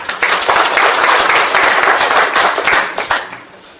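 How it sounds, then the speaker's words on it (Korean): An audience at a National Assembly seminar marking the 70th anniversary of liberation gives loud, dense applause for a three-term lawmaker, swelling quickly, holding, then tapering off at the end. "큰 박수 부탁드리겠습니다"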